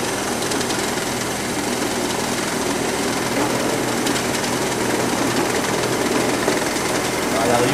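An automated assembly machine runs steadily with its rotary table and conveyor, a dense continuous mechanical whir and rattle with faint rhythmic clicking throughout, no pauses.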